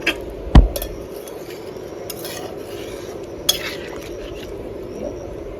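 A lid clanks onto a pot of fish curry with a sharp metallic knock, followed by a lighter clink a few seconds later over a soft cooking hiss, with no talking.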